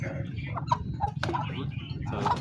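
Chickens cluck in short intermittent calls over a low, steady background rumble, with some nearby voices mixed in.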